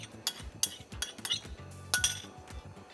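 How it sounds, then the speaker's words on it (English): A spoon stirs Russian fisherman soup in a metal pot, giving a series of sharp clinks and scrapes against the sides in an uneven rhythm, close and fairly loud with no voices. "I'm gonna stir again."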